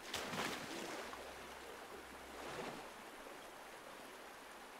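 A waterfall in the hiking game Rando Simulator 2019 gives a soft, steady rushing wash of water with gentle surges, with no talking.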